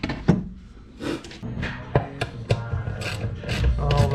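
A ratchet wrench driving bolts through a Milwaukee Packout build, giving short clicking bursts and mechanical rattles in irregular spurts, close and fairly loud with no talking.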